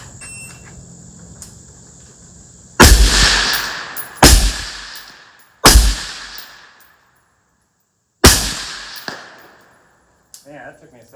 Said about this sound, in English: I'm going to zero the gun out